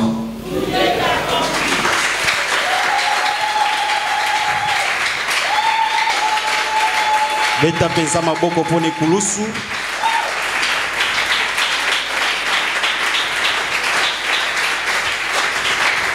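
A church congregation applauds and cheers for Jesus in a loud, sustained roar of clapping and voices, with a sustained vocal tone and brief shouts rising over the crowd noise partway through.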